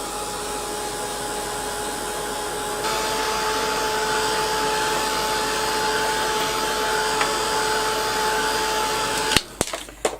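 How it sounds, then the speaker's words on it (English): A heat gun blows hot air steadily for about nine seconds in a continuous whooshing roar with a faint whine, used to dry ink on book pages for stamping, then it clicks off and a few soft handling noises follow. "I'm just going to give it a quick blast with the heat gun"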